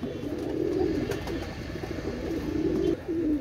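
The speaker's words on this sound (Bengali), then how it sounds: "এটা হচ্ছে পাকিস্তানি ডাবলা কবুতর" A Pakistani Dabla pigeon coos in low, repeated throaty murmurs, close and steady, with a brief pause near the end and no voices.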